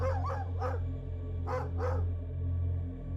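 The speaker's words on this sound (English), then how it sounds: "the occasional dog barking somewhere off in the dark" A dog barks somewhere off in the dark on a quiet night, a few short yips and barks in two pairs over a steady low hum, then only the hum remains.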